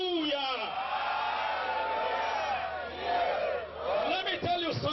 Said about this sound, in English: Come on, shout a living hallelujah.